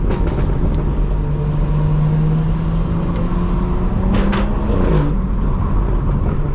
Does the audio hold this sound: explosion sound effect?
no